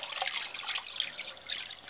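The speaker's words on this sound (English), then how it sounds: "Nice, good, clean, flowing filter." Aquarium filter running in a pet frog tank, giving a continuous close hiss of flowing, trickling water that holds steady throughout with no talking.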